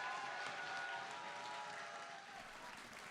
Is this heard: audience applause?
yes